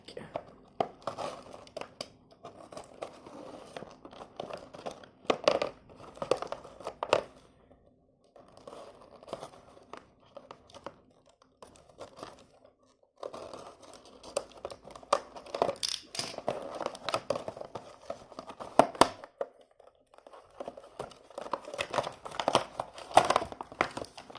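Tape being peeled and cardboard-and-plastic packaging crinkled while opening a Playmates Star Trek Scotty action figure, with bursts of close crackling and tearing separated by short pauses and a voice speaking at times.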